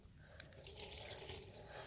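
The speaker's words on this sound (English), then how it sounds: "put a little bit of water here in the bottom, in the base tray here" Water is poured into the base tray of a small greenhouse holding African violet leaf cuttings, a soft steady trickle and splash close by for about two seconds.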